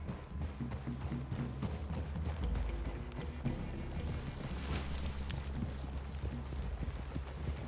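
Hooves clip-clopping steadily over rough ground, several horses moving together amid a dense, noisy backdrop of rumble and clatter, in the video game Red Dead Redemption 2.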